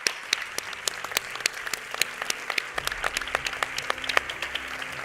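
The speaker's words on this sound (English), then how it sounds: "I just applaud them" Scattered, moderately quiet applause from a conference panel audience, individual claps popping out of a steady patter without any voices.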